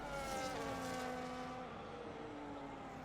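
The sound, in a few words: race cars racing down the straight in F1 25 video game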